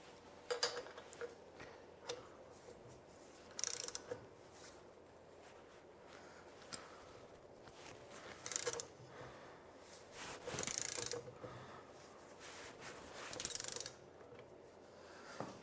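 Tightening down a Lambretta rear brake hub in a home garage: a series of quiet mechanical clicks and ratchet-like ticks, spaced irregularly with short bursts of louder metallic rasping, close by and with no talking.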